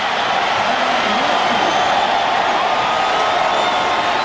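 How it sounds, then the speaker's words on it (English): A football stadium crowd roars in a steady, loud wash of cheering after an interception at a 2006 Minnesota at Green Bay game, with a commentator talking over it. "Crowd's cheering, but we'll wait to get the call."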